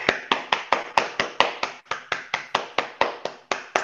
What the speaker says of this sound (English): give a round of applause to our esteemed graduates